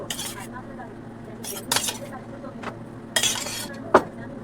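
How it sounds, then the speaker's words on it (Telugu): A spoon scrapes and clinks against a pot while chicken is stirred with curd, chili powder, salt and spices, giving a few short metallic knocks and a soft mushy churn beneath a woman's speech. "మొత్తం కలపాలి. ఇలా"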